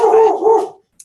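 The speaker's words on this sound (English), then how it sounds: "and that's my dog" A dog barks once, loud and close, a drawn-out bark lasting under a second, followed by silence and a faint brief click.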